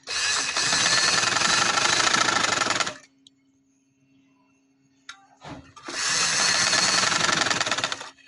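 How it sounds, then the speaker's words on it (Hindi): A domestic sewing machine stitching fabric for a baby girl's winter frock runs in a loud steady whir for about three seconds, pauses amid small handling clicks, then starts again in a second close burst. "इसी डपोट को इधर तक लेके आते हुए ये मैंने सिलाई लगा लेनी है"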